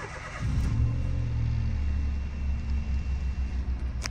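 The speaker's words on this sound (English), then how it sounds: "The engine sounds lovely" A Citroen car engine starts up and idles close by, a low steady rumble that settles into a lightly pulsing hum after the opening surge.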